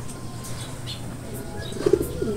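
Racing pigeons coo faintly against a soft outdoor hiss, with a clearer low coo near the end and a few light chirps and rustles.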